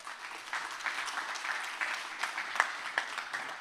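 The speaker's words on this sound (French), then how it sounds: "On les applaudit bien fort." An audience at a public talk applauds: a sustained, fairly faint patter of many hands clapping in a room, heard alone with no talk over it.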